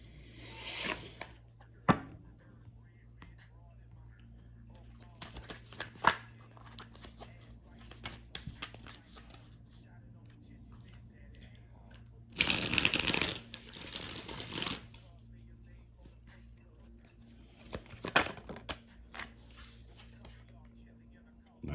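Tarot cards are shuffled and handled close up, with soft riffles and papery slides, one longer burst of rapid shuffling midway, under quiet intermittent speech.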